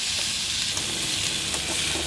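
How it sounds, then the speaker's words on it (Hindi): Onion and garlic with ginger-garlic paste frying in a pan for an onion tomato chutney, giving a steady, loud sizzle with light stirring scrapes throughout. "लहसुन भी अच्छे से भून जाएगा।"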